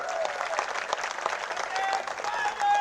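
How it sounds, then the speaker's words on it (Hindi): A crowd applauds loudly and steadily at a Congress party nomination rally in Mandsaur, a dense burst of clapping that lasts a few seconds. "तो सचिन भैया के लिए जोरदार तालियों से स्वागत करो।"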